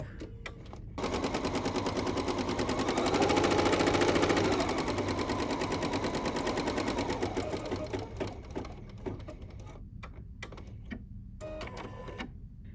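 A sewing machine stitches out the second colour of a vintage boardwalk embroidery design, a fast, even mechanical chatter running steadily for several seconds, swelling slightly, then thinning into short bursts and stops.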